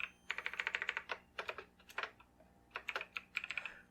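Fingers type on a computer keyboard in quick bursts of close, crisp key clicks separated by short pauses.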